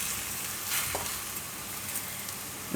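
Jeera paratha fries in oil on a pan over medium gas flame, a continuous soft sizzle with brief spatters and a louder clatter at the very end, no talking.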